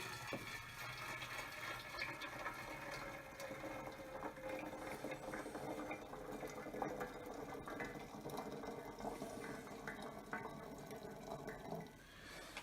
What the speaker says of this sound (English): Now what I'm going to do is fill this with water that has been freshly boiled.